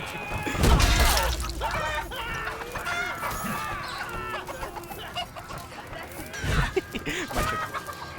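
Chicken clucks and squawks in a video game, with a loud burst near the start and another flurry later, over a steady busy game soundscape.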